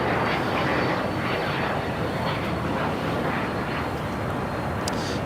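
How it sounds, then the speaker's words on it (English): A Cessna light aircraft takes off at Los Angeles International Airport, its engine drone a steady, broad roar that holds without pause for several seconds, moderately distant, with no talking. "This one taking off? It's a Cessna."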